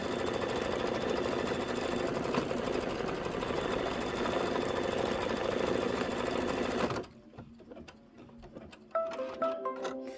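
An embroidery machine stitches a leaf tack-down line in a clover design, whirring steadily and loudly for about seven seconds before stopping abruptly, followed by faint clicks and small mechanical sounds.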